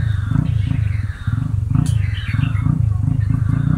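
A voice mimics a motor engine starting, a low rumbling, pulsing growl repeated in a steady rhythm, close and loud, with a brief break partway through.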